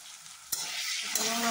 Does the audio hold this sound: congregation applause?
no